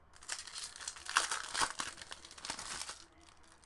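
A 2018 Topps Museum Collection baseball card pack wrapper being cut open, heard as a close burst of crinkling and tearing foil for about three seconds, then dropping to quiet.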